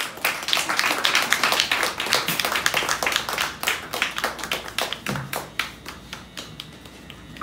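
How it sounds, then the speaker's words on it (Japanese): Clapping from a live-music audience welcoming a performer onstage, close and uneven individual claps in a quick, irregular rhythm, fairly loud and dry, with no talk over it. "拍手でお迎えください"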